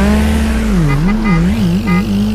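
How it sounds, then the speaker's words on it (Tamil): A blue car's engine in the mobile game Free Fire Max drones loudly and steadily, its pitch wavering up and down with repeated revs as it drives, with no one talking. "ப்ளூ காரோட சவுண்டு சூப்பராக தான் இருக்குது."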